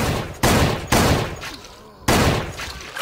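Heavy gunfire from the zombie shooter game SixthSense rattles out in dense automatic bursts, loud and close, with short gaps between three long volleys.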